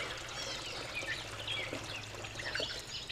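Water pours steadily from a watering can, a soft continuous splashing trickle heard close by, with faint bird chirps outdoors in the background.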